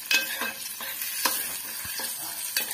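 Ginger and garlic frying until deep red in a pan for a tomato saar, a continuous bright sizzle with repeated scraping strokes of a spoon stirring, close up and without talk.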